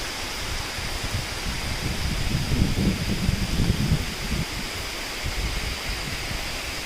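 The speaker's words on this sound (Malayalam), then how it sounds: "നിങ്ങൾ ജസ്റ്റ് ഒന്ന് ഈ കാടിൻ്റെ സൗണ്ട് നോക്കട്ടോ, ഈ പുഴയുടെയും അതേപോലെ പക്ഷികളുടെയും ചീവീടിൻ്റെയും ഒക്കെ" A forest river stream in Idukki, a broad steady rush of flowing water, loud and close, with a faint high insect-like drone running above it throughout.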